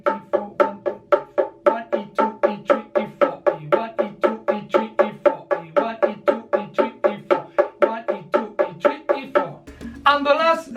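Steady percussion strikes, about three per second, played as eighth notes in an even rhythm, loud and close with no talking, followed by a brief brighter burst at the end.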